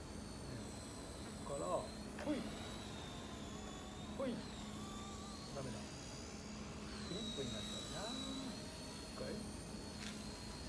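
A small Blade Nano CPS remote-control helicopter whines with a high, wavering electric motor pitch that rises and falls, as people talk nearby.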